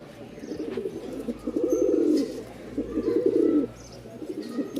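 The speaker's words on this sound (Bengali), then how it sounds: "কবুতর একদম পাগলা ডাকের পাগলা ডাকের কবুতর" Giribaz pigeons cooing close by in two drawn-out, low throaty phrases separated by short pauses, soft and steady with no talk over them.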